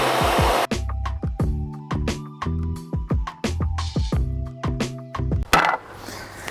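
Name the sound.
table saw cutting boards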